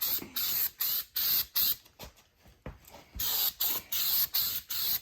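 Bursts of spray gun hiss as bed liner undercoating is sprayed onto the body of a Subaru Justy during rocker panel work, coming in about a dozen rhythmic passes with short gaps, loud and close with no talking.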